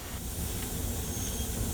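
Continuous loud hiss of a steam locomotive's brakes being applied, a steady broadband rush of escaping air and steam with a low rumble beneath, heard close and without a break.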